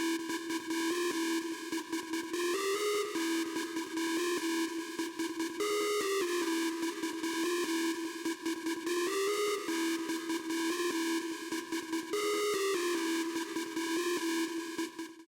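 A synthesized melody loops the same phrase over and over without variation, bright sustained notes repeating steadily for about fifteen seconds with no voices.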